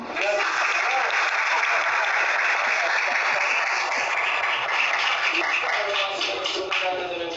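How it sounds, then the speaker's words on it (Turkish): Audience applause at a university talk event, a dense steady clapping roar from a large crowd that stays loud and even throughout. "bir alkış almadın ama"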